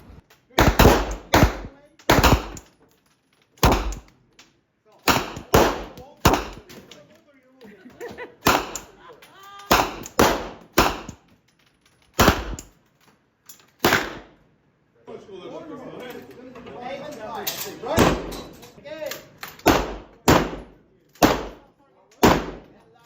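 Pistol shots, including a Glock, fire at a shooting range: a series of sharp loud cracks, some singly and some in quick pairs, spaced irregularly, with quieter gaps and a short stretch of faint background noise between them.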